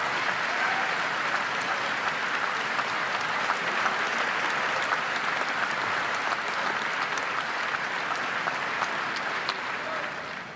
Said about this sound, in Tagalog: Basta palakpak lang.